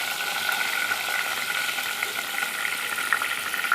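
Bay leaves and dried red chillies frying in hot oil, a steady, fairly loud hiss and crackle with a few faint stirring scrapes.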